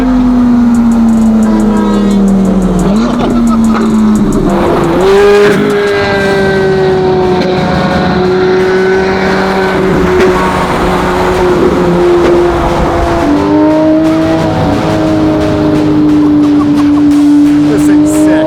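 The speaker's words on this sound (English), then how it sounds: "Car sounds so good, straight pipe." Loud supercar with a straight-pipe exhaust, its engine note rising and falling steadily as it drives and revs, heard up close with people talking over it throughout.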